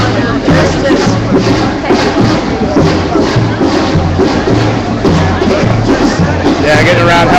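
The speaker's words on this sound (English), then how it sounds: "Got a big crowd here. A lot of pissed off people." Large outdoor crowd of angry protesters at a Justice for Trayvon Martin rally in San Francisco, a loud continuous babble of many voices with shuffling and occasional shouts close around.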